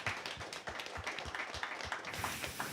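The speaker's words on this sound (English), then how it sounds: "please applause." A small audience at an Anifilm festival panel in Liberec claps to close the session, a few distinct hand claps in an uneven rhythm, near and moderately loud, with no talking.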